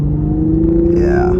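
A 2022 Infiniti Q60 Red Sport 400's turbocharged engine accelerating under throttle on a test drive, a steady loud drone with a rising whine building toward the end, close and continuous.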